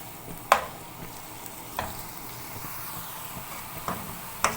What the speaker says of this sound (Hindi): अब इसमें डालेंगे हम प्याज, और प्याज जब हल्का सा ब्राउन होगा तो फिर बाकी जो मसाले हैं वो इसमें डालेंगे।